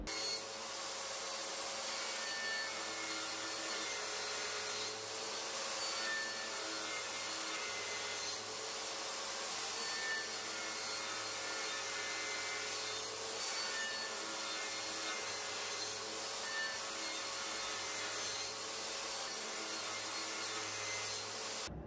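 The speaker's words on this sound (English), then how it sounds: "Now we're going to sand pretty much our whole box." Sandpaper at 80 grit scrubs steadily across wooden speaker box panels for a clock radio build, a continuous close abrasive rasp with no talking.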